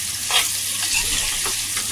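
Pieces of mutton fry lightly in a pan in a home kitchen, giving a steady close sizzle with a few soft stirring scrapes and no talking.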